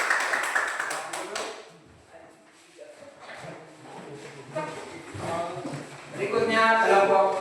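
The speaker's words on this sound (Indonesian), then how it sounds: "Ya, tepuk tangan dulu." Students in a classroom clap together in a quick, uneven burst at the start, then the applause fades into murmuring voices and shuffling, with a second rhythmic round of clapping rising near the end.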